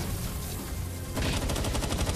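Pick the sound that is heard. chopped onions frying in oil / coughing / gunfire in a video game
gunfire in a video game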